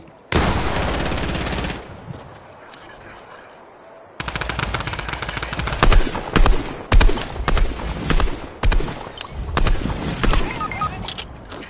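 Fortnite gunfire from a multiplayer Season 7 match: a sustained automatic burst up front, then a lull and a long stretch of overlapping rapid shots and bursts, loud and dense.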